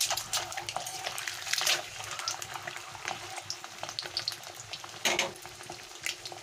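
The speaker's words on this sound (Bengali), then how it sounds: "কড়া করে ভাজবো না, একটা হালকা করে ভেজে নেব" Eggs frying lightly in hot oil for an egg korma, a steady close crackling sizzle with scattered pops and louder bursts.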